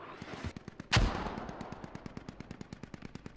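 Mortar fire in a war video game: one strong deep blast followed by a steady, rapid train of evenly spaced sharp reports, moderately loud and continuing throughout.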